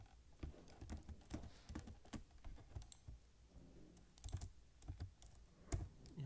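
Quiet, steady keystrokes on a computer keyboard while JavaScript code is typed for a digital clock, with irregular clicks and short bursts alone and no talking.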